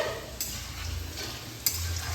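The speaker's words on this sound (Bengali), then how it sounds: "হলুদ দিয়ে দিচ্ছি হাফ চামচ লবণ দিয়ে আলুটাকে ভালোভাবে ভেজে নেব" Potato pieces frying with turmeric and salt in a pan, a soft steady sizzle with two brief sharp scrapes of stirring, close and quiet with no talk.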